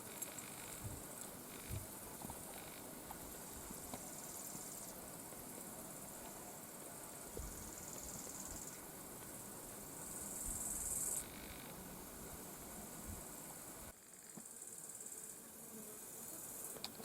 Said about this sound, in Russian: слышите, наверное, как играют кузнечики.